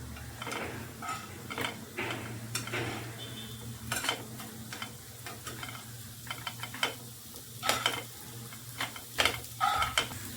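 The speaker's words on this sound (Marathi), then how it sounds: "आता आपण याला एक 2 ते 3 मिनटं ह्या साईडने आपण मस्तपैकी याला शेकून घ्यायचं आहे." Slices of suran (elephant foot yam) shallow-fry in a pan with a steady, quiet sizzle, broken by frequent close clicks and scrapes of a spatula and utensils.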